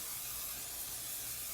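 Cooking spray hisses from a can into a pie pan in one continuous, close, steady burst with no talking.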